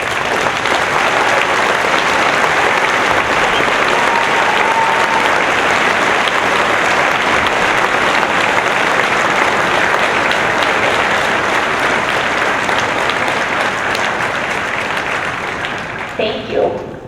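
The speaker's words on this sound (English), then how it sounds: "would all students with honor stoles please stand and receive our applause?" A large graduation audience applauds high school honor students, steady dense clapping filling the whole stretch at full volume before tapering slightly at the end.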